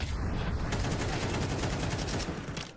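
Pistol gunfire in the video game Counter-Strike on map Train, a rapid run of sharp shots with clattering game sound, fairly faint and continuous in the background.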